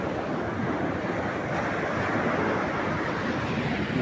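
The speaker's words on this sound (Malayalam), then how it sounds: "അതാണ് കോഴിക്കോട് ഹാർബറിൻ്റെ സൈഡിലുള്ള ബീച്ച്" Surf washes onto the beach beside Kozhikode harbour, a dense, continuous roar of breaking waves with wind buffeting the microphone and no voices.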